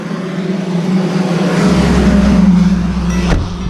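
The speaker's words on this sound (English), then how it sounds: "The truck scared him." A truck passes near a beach. Its engine rumble swells loudly and close, then eases slightly as it goes by.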